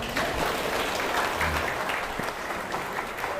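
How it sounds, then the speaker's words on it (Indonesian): At a religious lecture held at a prosecutor's office, the crowd breaks into applause, a steady, close rain of clapping hands that stays even throughout a few seconds. "Mana tepuk tangannya?"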